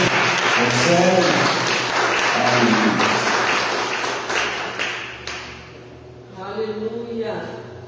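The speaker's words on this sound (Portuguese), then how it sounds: "Você consegue aplaudir o Senhor por essa palavra?" A church congregation applauds during a worship service, a broad wash of many hands clapping that fades toward the end, with a voice speaking or calling out over it at intervals.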